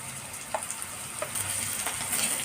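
A paste of green chili, cumin, garlic and ginger fries in oil with onion and red chili powder, giving a steady close sizzle with a few faint stirring clicks.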